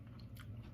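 Crunchy bites of dry, sugary Dunkaroos cereal eaten without milk, one brief close crunch lasting under a second over low background hum.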